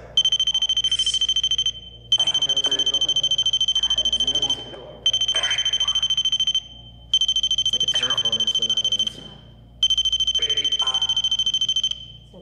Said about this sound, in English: I think the phone's for you.